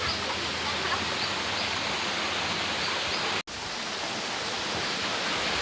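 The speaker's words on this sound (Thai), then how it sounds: "เป็นน้ำตกนะครับ" A forest waterfall flows in a steady, dense rushing hiss, constant and fairly close, with a brief dropout in the middle and no voices.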